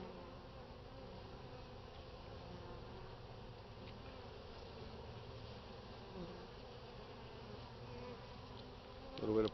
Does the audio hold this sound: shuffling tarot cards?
no